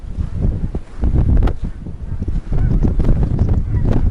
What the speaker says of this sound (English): there's geese in the sky